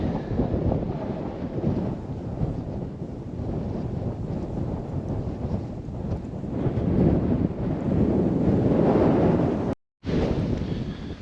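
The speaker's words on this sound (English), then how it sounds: "it's bloody windy" Heavy wind buffets the microphone nonstop outdoors on the Kent and Sussex border, a loud low rumble that swells toward the end, with a brief dropout near the close.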